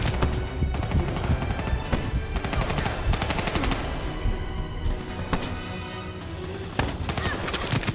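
Enemy gunfire in a shooter video game: dense, loud bursts of automatic fire with rapid rhythmic shots, occasional heavier booms and impacts, continuing throughout.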